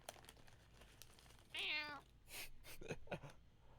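A voice imitates a cat, giving one short, clear meow amid faint background noise and soft rustling.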